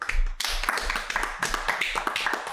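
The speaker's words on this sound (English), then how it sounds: "why are we clapping?" Brief bursts of clapping from a few people at close range, irregular and loud, with some voices mixed in.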